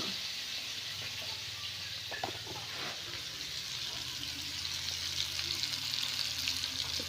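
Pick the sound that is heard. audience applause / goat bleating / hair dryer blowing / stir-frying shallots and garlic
stir-frying shallots and garlic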